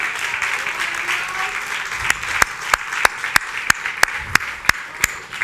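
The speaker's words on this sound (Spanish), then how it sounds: "Denle un aplauso" A church congregation applauds during a worship service, a dense wash of clapping that picks up sharp, rhythmic claps in the second half, fairly close and steady with no talk over it.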